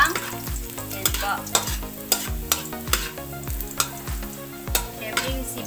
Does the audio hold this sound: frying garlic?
yes